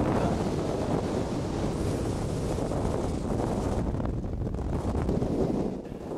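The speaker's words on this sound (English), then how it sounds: "very strong wind, bad visibility" Very strong wind of about 40 knots roars continuously while snow kiting in bad, cold weather with poor visibility, a loud, dense buffeting rush across the microphone that barely lets up.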